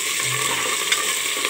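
Chopped onion, cumin and curry leaves fry in hot oil with a close, even sizzle that stays brief and steady throughout.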